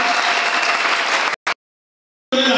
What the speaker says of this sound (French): Nous pouvons acclamer pour le Seigneur.